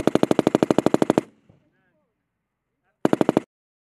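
M240B and M249 machine guns fire live on a military training range in loud, close automatic bursts: a long rapid string of shots, a short silence, then a second brief burst.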